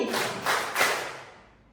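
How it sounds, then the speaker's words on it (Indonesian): A short series of three hand claps, close and crisp with a bright smack and a short room echo, given in a classroom exercise, evenly spaced and fading out after the last clap, with no voices. "Tepuk tangan 3 kali."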